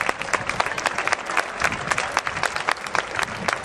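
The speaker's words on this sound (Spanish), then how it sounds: "Un fuerte aplauso, por favor." Audience applause at an award ceremony for a FundaMadrid tournament, with distinct close claps forming an irregular, lively patter that lasts throughout.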